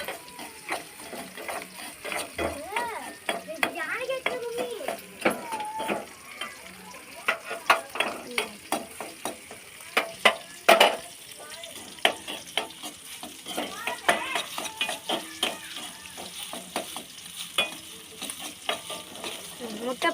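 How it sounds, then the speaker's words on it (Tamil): Egg stir-fried in a pan while making Maggi noodles: soft steady sizzling with frequent scraping clicks of a spatula against the pan, close and moderately quiet throughout. "முட்டை பொரிச்சாச்சு"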